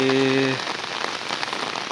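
Sudden rain falling in a Jaffna village, a steady close patter on surfaces; a short voice opens it before the rain carries on alone.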